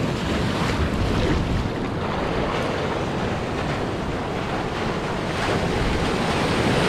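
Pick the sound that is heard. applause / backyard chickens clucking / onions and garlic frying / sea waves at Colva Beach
sea waves at Colva Beach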